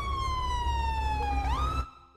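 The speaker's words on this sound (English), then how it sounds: "Was that my siren?" A police car siren in GTA 5 wails steadily, sliding down in pitch and rising again before it cuts off sharply near the end, loud and close with no talk over it.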